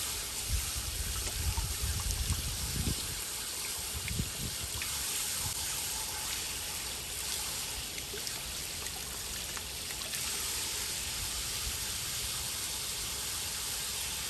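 Water runs steadily from a Thermomate 1.32 GPM propane portable tankless water heater, a soft, even hiss of flow with a few faint splashes near the start and no talk.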